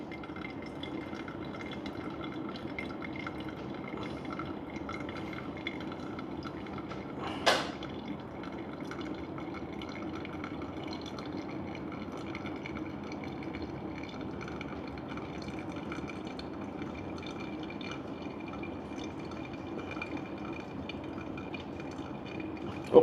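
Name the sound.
water being poured for filter coffee brewing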